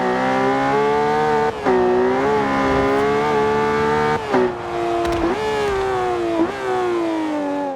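Car engine heard from the cockpit view in Forza Horizon 2, a loud steady rumbling drone with several gear shifts and small rev changes, close and alone with no talk.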